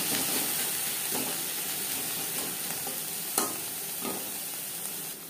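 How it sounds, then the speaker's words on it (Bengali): Onions sizzling in hot oil for a katla fish and eggplant curry, a loud continuous crackling hiss with a few sharper pops and stirring clicks, no voices. "পেঁয়াজ ভেজে নেব।"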